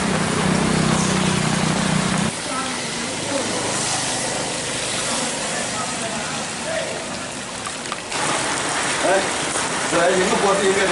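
Heavy, sudden downpour in Tiruvannamalai, a steady loud hiss of rain pouring onto surfaces throughout, with a brief low rumble of an engine early on and faint voices mixed in.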